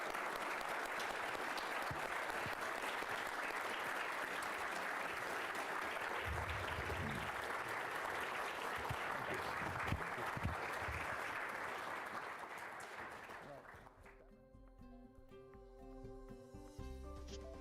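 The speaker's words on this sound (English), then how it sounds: "Round of applause." A conference audience applauds at length, a dense, even wash of many hands clapping that fades out after roughly fourteen seconds, after which a tonal, music-like sound takes over.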